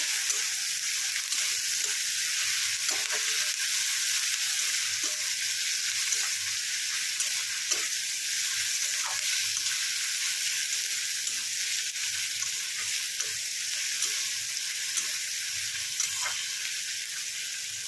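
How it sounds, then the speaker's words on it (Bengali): Onion frying in a pan for a prawn and potato curry, a steady close sizzle with small crackles throughout and no talk. "ভালো করে ভেজে নেবো এটা।"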